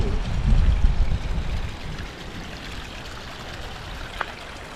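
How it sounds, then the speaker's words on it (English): Water runs down rock into a ravine, a steady rushing trickle that is louder and nearer at first, then settles to a softer, continuous flow with one brief knock near the end. "You can see the water running down the rock in there and coming down."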